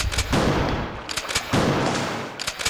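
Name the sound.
shotgun shots in the video game Resident Evil 2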